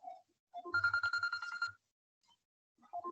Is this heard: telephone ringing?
yes